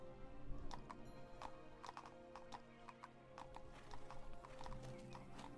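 A horse's hooves clip-clop in a steady walking rhythm close by, with a brief whinny, against a quiet outdoor background and no talking.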